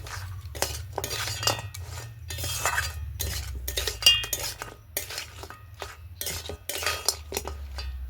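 A crab, eggplant and potato curry being stirred and sautéed in a pan: repeated close metal spoon scrapes and clinks against the pan in uneven bursts over a low steady hum, with no talking.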